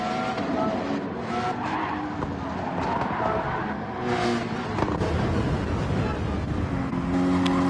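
Race car engine and tire skid in a racing video game as a car spins out onto grass, a continuous loud roar with scrubbing, sliding tire noise and other cars droning nearby.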